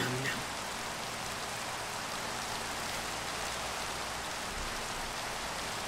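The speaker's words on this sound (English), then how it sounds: "Thank God it's raining." Rain falling in Minecraft (Skyfactory 3), a steady, even hiss of rainfall that runs unbroken throughout, with no talking.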